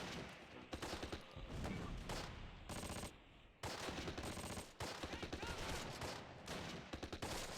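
Dense, continuous gunfire in a Close Combat World War II strategy game battle: overlapping rifle and machine-gun bursts with short gaps, loud and sustained throughout.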